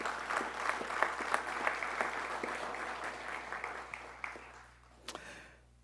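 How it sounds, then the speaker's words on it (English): An audience claps warmly at a police department promotions ceremony, a sustained indoor round of applause that thins out and stops near the end, leaving a few last claps. "Give them a round of applause."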